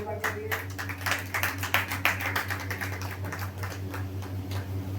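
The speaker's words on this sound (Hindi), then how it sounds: "ताली बजाएंगे खुदा की।" Congregation at a Hindi-language church service clapping together in a steady, dense rhythm, fairly loud and close, over a constant low hum from the sound system.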